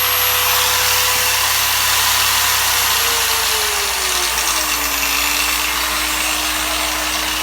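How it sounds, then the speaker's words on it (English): A cordless EGO car polisher runs flat out at speed setting 6, a loud continuous whirring drone whose pitch dips and settles partway through as the pad works the surface, with no talking. "Polishing it, polishing it."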